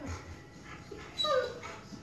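A one-year-old Rottweiler whimpers up close, giving a few thin, high whining cries that rise and fall, with a brief louder whine in the middle, among faint room sounds.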